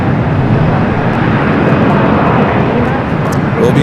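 A Sichuan Airlines Airbus A350-900 in Panda route livery, arriving at LAX from Chengdu, roars as a loud, steady broadband rush of jet engine noise that fills the whole clip, with faint talk beneath.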